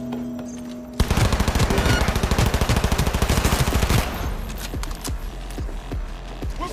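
Rapid automatic gunfire from a gun in the video game Cyberpunk 2077, a loud fast burst of evenly spaced shots lasting about three seconds, then scattered single shots and impacts over a lower rumble.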